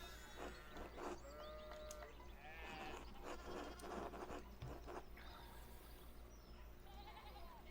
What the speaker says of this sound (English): we need to get these sheep under control